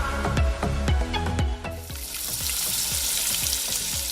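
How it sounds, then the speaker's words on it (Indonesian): Duck pieces deep-frying in hot oil give a loud, steady sizzle and crackle with repeated clanks of a utensil stirring, close up and without talk. "bebek digoreng sampai mateng guys"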